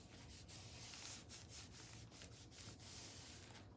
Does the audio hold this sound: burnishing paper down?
yes